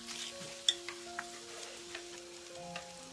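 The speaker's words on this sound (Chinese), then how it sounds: "搅拌一下，" Pork belly stew with beer being stirred in a pot, with soft scraping and sizzling taps at an irregular pace, close and fairly quiet, no voices.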